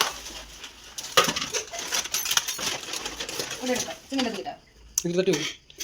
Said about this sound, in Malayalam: ഈ പാത്രം തട്ടട്ടോ